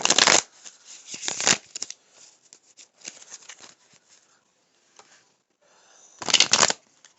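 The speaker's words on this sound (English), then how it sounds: "Let me shuffle these cards." Tarot cards being shuffled close up in several bursts of crisp riffling and flapping, separated by quieter pauses with light shuffling, and no talking.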